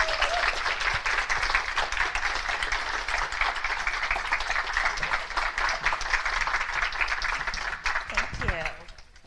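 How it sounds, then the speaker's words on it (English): A seminar audience claps and cheers as a speaker comes to the stage, dense sustained applause from a crowd for about eight seconds, loud and close, then fading out at the end. "I heard clapping and cheering already."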